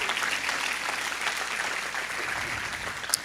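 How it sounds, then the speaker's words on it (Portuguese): A church congregation applauds during a sermon, with steady, dense clapping that fills the room and holds at an even, fairly loud level throughout with no one speaking over it. "Pode aplaudir, é para Ele."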